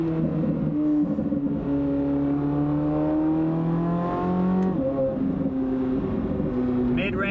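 A Corvette Z06 fitted with a Valvetronic titanium exhaust and OEM downpipes revs up and down nearby, its rising and falling engine tone loud and steady, with a faint voice underneath.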